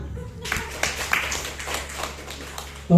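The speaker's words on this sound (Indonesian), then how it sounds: "Ya, tepuk tangan." A group claps at a talk-show gathering, a flurry of quick, sharp hand claps that rises in at about half a second and keeps going steadily, with talking around it.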